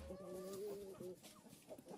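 Chickens clucking in a low, murmuring flock, faint and somewhat distant, one drawn-out tonal cluck standing out briefly over a steady background hum.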